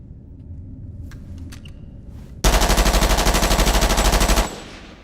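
Movie gunfire, a sudden burst of rapid automatic fire lasting about two seconds, loud and close, following a quieter rumbling stretch with a few faint clicks.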